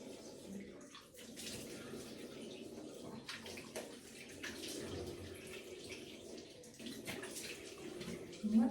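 Water runs from a tap into a sink during face rinsing, a steady splashing flow with occasional louder gushes and small bumps, close by.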